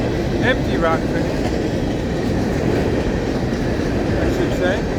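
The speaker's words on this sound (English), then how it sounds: "Empty rock train," An empty rock freight train rumbles past nearby, its wheels clacking steadily over the rails with short high squeals, a loud continuous roll throughout.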